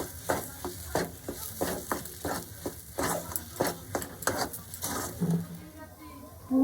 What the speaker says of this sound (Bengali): লবণ ও চিনিটাকে দিয়ে আমি খুব ভালোভাবে এই পুরের সঙ্গে মিশিয়ে দেবো